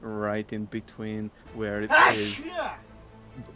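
A person sneezes once, a loud burst in the middle of a tabletop role-playing session, surrounded by people talking before and after.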